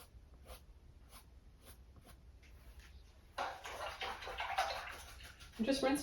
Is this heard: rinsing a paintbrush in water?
yes